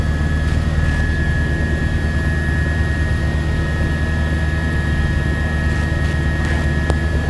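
A news helicopter flies over New York on September 11, 2001, its rotor and engine making a steady, loud droning roar that fills the whole stretch without a break.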